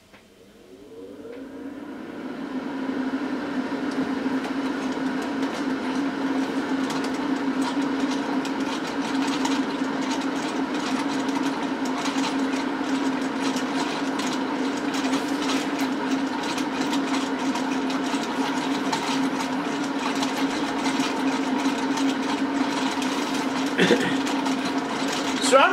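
An electric fan blows onto a small wind turbine with an anemometer beside it. The fan spins up over the first couple of seconds, then holds a loud, steady whirring hum with a low tonal drone for the rest of the clip.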